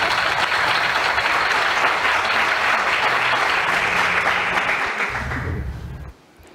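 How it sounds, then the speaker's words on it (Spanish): An audience at a live on-air event in the Thyssen-Bornemisza museum breaks into loud, dense applause that holds steady for several seconds before fading out toward the end. "Aplausos."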